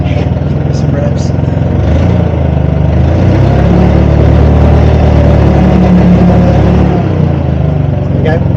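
Motorcycle engine revving on a brake tester in a workshop, a steady mid-pitched drone that swells and holds at higher revs, loud and continuous throughout.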